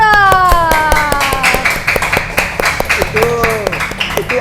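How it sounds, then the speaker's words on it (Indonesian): An audience at a youth community gathering in East Lombok claps hands in a dense, uneven patter, with voices and tonal sounds running through it. "Tepuk tangan dulu"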